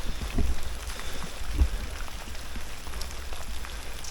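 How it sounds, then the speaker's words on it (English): Steady rain patters on surfaces, a continuous soft hiss with occasional heavier drops and a low rumble beneath. "another rainy day"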